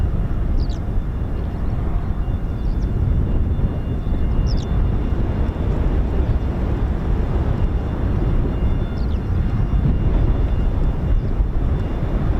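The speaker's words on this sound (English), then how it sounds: "have a KC-135 on approach here, ready to land" A Boeing KC-135 Stratotanker on approach to land at RAF Mildenhall gives a steady, loud jet roar that holds level throughout, with faint birdsong chirps above it outdoors.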